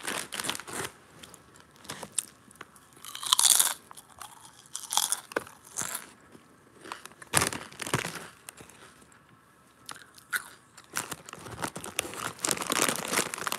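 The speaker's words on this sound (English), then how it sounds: "Can y'all hear me crunching?" Crunchy food is bitten and chewed close to the mic in live ASMR style, with repeated loud crackling crunches and crinkles at an uneven pace over several seconds.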